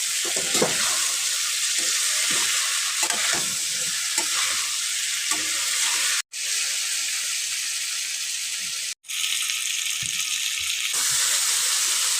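Fried potatoes and cauliflower get mixed in a frying pan, a continuous loud sizzle with repeated scraping stirs, broken by two very brief silent gaps.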